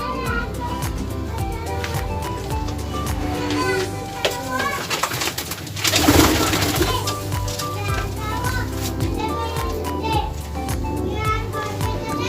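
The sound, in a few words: pigeon cooing while held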